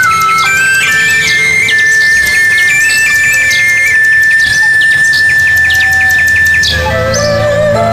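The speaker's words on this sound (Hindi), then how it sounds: "उन्हें बुलबुल की मधुर आवाज सुनाई दी" A nightingale singing sweetly in an animated telling of The Emperor and the Nightingale, loud continuous whistled song with sustained high tones and quick chirping trills.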